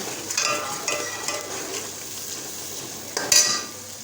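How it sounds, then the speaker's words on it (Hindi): Onions browning with spices in a pan produce a continuous hissing sizzle, broken by a few stirring scrapes and a brighter clatter near the end. "तो ये अभी प्याज ब्राउन हो रहे हैं"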